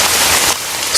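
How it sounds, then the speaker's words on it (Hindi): Heavy, steady rain pours down at the seashore, a dense, loud hiss with no pauses, close and enveloping. "समुद्र किनारे बारिश हो रही थी।"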